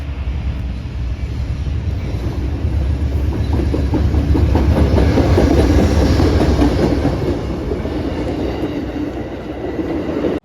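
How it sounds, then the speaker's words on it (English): An Amtrak passenger train pulls into Lakeland Station, rumbling loudly past at close range, wheels clicking steadily over the rails under a constant heavy drone. "This is Amtrak PO41 pulling into Lakeland Station with Amtrak 174, the Mark B. Kennedy unit"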